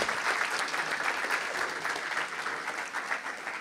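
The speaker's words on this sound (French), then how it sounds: "On les applaudit." Steady applause fills a church service led by a pastor, a dense continuous patter of many hands clapping at even loudness throughout, with no voices standing out.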